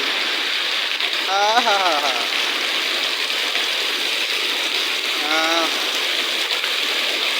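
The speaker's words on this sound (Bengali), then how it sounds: "এখানে কিন্তু আমাদের এখানে প্রচুর বৃষ্টি হয়েছে" Heavy rain pours in a dense, steady hiss throughout, with a couple of brief voices rising faintly above the downpour.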